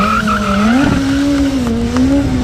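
A loud, close stunt motorcycle engine revs during a stunt show, its pitch climbing and then holding at a high, sustained whine.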